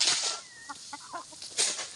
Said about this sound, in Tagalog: ang mga manok nagamerienda din